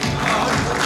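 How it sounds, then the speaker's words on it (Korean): A high school audience at a school event claps and cheers in a dense, loud burst of applause and whoops filling the hall for about a second. "음악 연출하고 있어요. 박수 한번 주세요."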